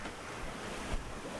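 Ocean swell and waves wash around a sailing boat in about 25 knots of wind, a steady broadband rush with a soft surge near the end and wind buffeting the microphone.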